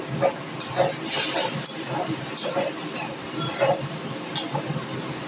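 A spoon scrapes and clinks against a pan while a small fish curry is stirred, giving repeated light metallic taps at an uneven rhythm, close by, with some background sound mixed in.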